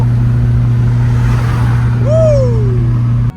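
Car accelerating away at a stance car meet, a steady engine hum rising into a whining rev that sweeps up and then falls away, fairly loud against a constant low drone.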